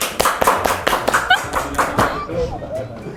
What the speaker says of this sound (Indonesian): Kita tepuk tangan dulu jadi.